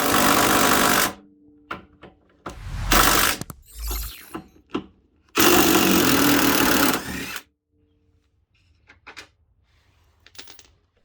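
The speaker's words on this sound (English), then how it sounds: "Using a 17mm socket on an impact driver, 2 of the 3 bolts came out without issue" An impact driver fitted with a 17mm socket hammers at bolts on a 2004 Honda Pilot during a trailer hitch installation, in several loud rattling bursts of one to two seconds separated by near silence and faint clicks.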